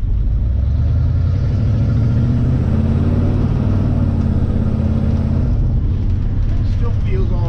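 A 1980 Ford Bronco's engine drones loud and low while driving, a constant rumble with road noise from inside the cabin and a voice talking over it.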